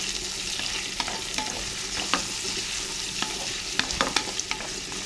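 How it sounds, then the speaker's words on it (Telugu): Bitter gourd curry is mixed in a frying pan, a soft continuous sizzle dotted with light spatula taps and clicks that grow sharper toward the end, with no voice heard. "ఇప్పుడు మనం దీన్ని అనేది మంచిగా కలిపేసుకుందాం ఒకసారి."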